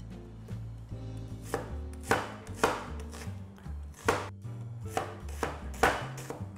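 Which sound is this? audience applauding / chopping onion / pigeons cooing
chopping onion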